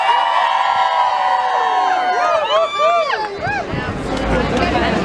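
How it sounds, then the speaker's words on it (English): A crowd of school and college students at a youth climate strike in Newcastle cheers and whoops loudly and continuously, a mass of voices rising and falling nearby. "Can I get a cheer for everyone who is on strike from their school or college"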